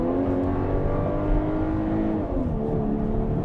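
Volkswagen Atlas SUV with a 2.0-litre turbo engine accelerating, a smooth rising engine drone with steady harmonic tones heard from inside the cabin, constant and fairly loud with no talk.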